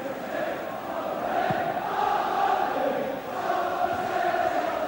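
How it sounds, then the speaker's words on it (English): Football crowd at a 1990 Scottish Cup third-round match between Partick Thistle and Aberdeen, a steady distant roar of thousands of fans filling the stadium with no clear chants. "It's a good crowd, and a good few thousand down from Aberdeen as well."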